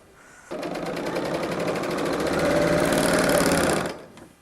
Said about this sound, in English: when I do the hem, I switch it so I'm stitching with the right side of the garment up